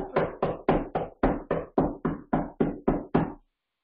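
About a dozen loud, crisp knocks on a door ring out close by in an even, steady rhythm, then stop, leaving silence.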